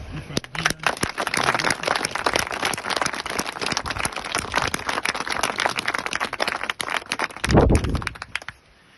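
An audience at a commemorative ceremony in Brest claps in a thick, crackling burst that fills about eight seconds, then a brief swell of voices near the end before it fades.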